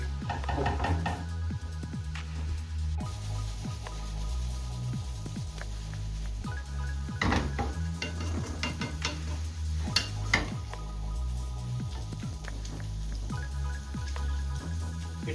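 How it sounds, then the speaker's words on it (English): Fish and stir-fried vegetables are stirred in a pan, a spatula scraping and clinking against the metal in an uneven rhythm over a soft background sizzle. "after 5 minutes we are mixing up and down so that it can be cooked"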